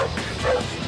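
A search and rescue dog trained to alert on human scent gives a single short bark, close and clear, lasting under a second.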